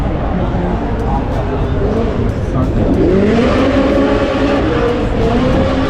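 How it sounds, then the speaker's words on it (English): Loud drift car engines rev and roar nearby at a World Time Attack event, with pitch rising and falling as they accelerate, joined by a continuous rumble and crowd noise. "it sounds like the drift cars are out"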